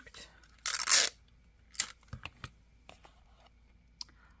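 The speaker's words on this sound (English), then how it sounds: "I am going to tape the back side." Tape torn from a roll and pressed onto the back of paper dividers: one loud ripping burst, then softer crinkles and scattered small taps and clicks.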